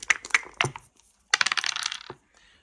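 Precision dice clatter across a solid burled wood backgammon board: three quick taps, a pause, then a longer rattling tumble that settles and stops, close and fairly quiet.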